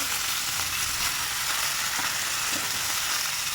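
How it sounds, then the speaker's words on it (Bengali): Cauliflower pieces fry in hot oil, a dense, loud, continuous hiss of sizzling with no talking. "ওই তেলের মধ্যে দিয়ে দেবো ফুলকপি, হলুদ,"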